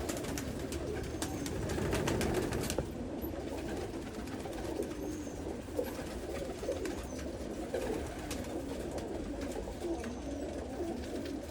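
Pigeons coo steadily in a racing pigeon breeding loft, a soft, continuous murmur of overlapping low calls at close range with no talking.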